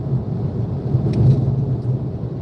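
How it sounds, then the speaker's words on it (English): Heavy rain pours onto a car windshield with a low rumble of thunder underneath, a dense, steady wash of sound throughout. "Here comes the rain again, falling on my windshield like a wind."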